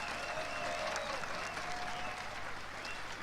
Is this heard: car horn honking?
no